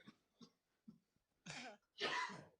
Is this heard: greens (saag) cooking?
no